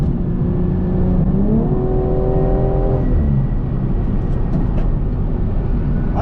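A tuned 500 hp BMW M340i with a downpipe accelerates hard, its engine note climbing steadily through a rev sweep before easing off, heard loud from inside the cabin over constant road roar.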